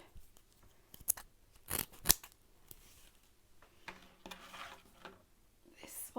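Scissors snip paper strips in half, a few sharp close cuts clustered in the middle with soft handling rustles between them.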